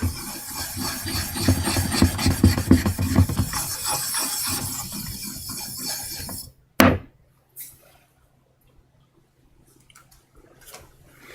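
Fine 1000 grit sandpaper rubs back and forth under light pressure in a quick rhythmic rasp for about six seconds. It stops with a sharp knock, then near silence with a few faint touches.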